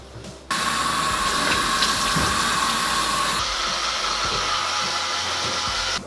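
A tap runs steadily into a bathroom sink while hands are washed beneath it, a continuous close hiss of flowing water that shifts slightly in tone partway through and then cuts off.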